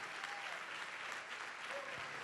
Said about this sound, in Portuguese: Vamos aplaudir, igreja, vamos aplaudir mais.